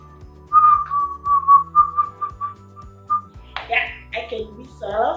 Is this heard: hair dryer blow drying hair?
no